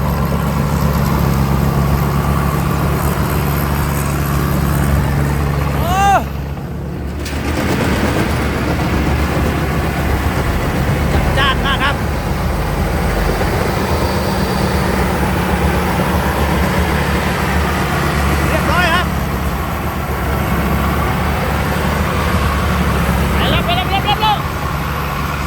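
A TAMCO 2019 combine harvester with a 6HK engine runs at a steady, loud drone through the whole stretch, with a brief dip partway and a few short higher-pitched whines over the continuous rumble.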